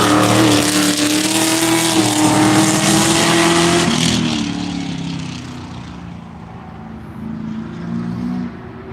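Corvette race car at Virginia International Raceway during a One Lap of America session, a loud close engine roar that drops in pitch as it brakes hard for turn one, then fades into steady lower engine drone.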